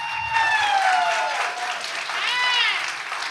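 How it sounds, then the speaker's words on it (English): A crowd at a school district board meeting claps and cheers loudly and continuously throughout, with a few voices rising above the applause. "please hold the applause"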